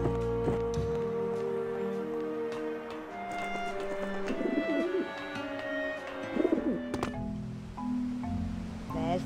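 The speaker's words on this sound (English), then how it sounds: "There's the pigeons." Pigeons coo in the video game Grim Fandango, two short burbling coos rising out of a sustained musical score, fairly close and moderately loud.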